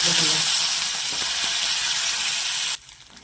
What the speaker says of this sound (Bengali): সর্ষে দিলাম, অল্প করে হিং দিলাম, আর কারি পাতা দিলাম।